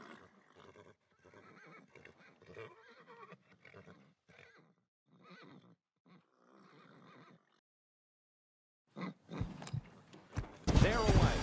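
Racehorses in the video game Phar Lap at Sakura Valley, lined up before the start; a commentator's voice fills most of the clip, then loud horse whinnies and snorts burst in near the end.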